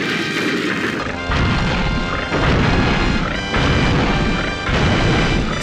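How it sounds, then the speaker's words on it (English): Boss fireballs in a Donkey Kong 64 demo, heard as repeated loud crashing blasts roughly every second, each a dense burst of noise with no talking. "the boss has a different sound effect for his fireballs"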